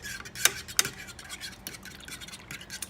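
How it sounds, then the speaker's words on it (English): A fork stirs coconut oil into vegan turmeric golden milk, giving soft scraping swirls in a cup with two sharper metallic clinks near the start, all quiet and close with no talk. "I'm using this fork to show you guys that it can be done with"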